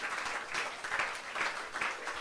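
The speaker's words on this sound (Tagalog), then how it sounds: "Bigyan natin yung malakas na palakpak para sa Diyos" A church congregation applauds together in a steady, even wash of clapping, dense and moderately loud, filling a worship hall without voices standing out.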